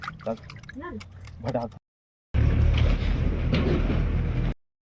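Rohu fish being washed in water, a steady splashing, sloshing rush running for a couple of seconds after a brief stretch of talk and a short pause, close and fairly loud.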